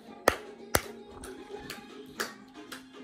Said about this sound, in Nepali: बजाएको बजाइ ताली ताली